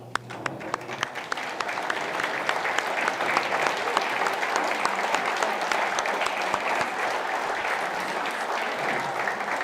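Warm applause from an audience at a community summit event, honoring community leaders, as a dense, steady wash of clapping that builds over the first seconds and continues evenly throughout, with no voices over it.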